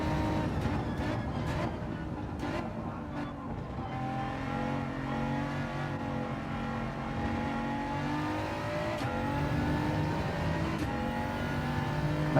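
BMW race car engine in a racing video game, revving loudly and steadily, pitch rising and dropping through gear changes with brief cuts between shifts, a continuous close mechanical drone.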